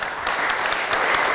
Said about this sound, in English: give a very big thank you and a warm round of applause for our panel tonight